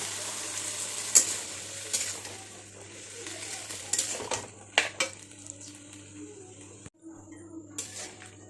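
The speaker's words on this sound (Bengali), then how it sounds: "এখন এটাতে ছোলা ঢেলে দিচ্ছি সিদ্ধ করা ছোলাটা ঢেলে দিলাম" Boiled chickpeas are tipped into a pan of fried onions and spices, giving a soft sizzle and scattered metal clinks and scrapes of stirring near the mic. A low steady hum runs underneath and no one speaks.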